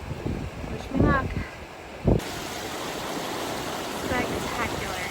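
Creek water rushes steadily near a waterfall along a rough hiking trail, a constant broadband wash with a couple of louder bursts of wind noise and brief voices over it.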